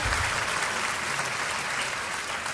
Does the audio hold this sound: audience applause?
yes